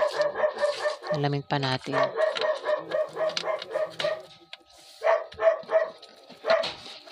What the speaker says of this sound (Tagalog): Ayan, naingay ng aso.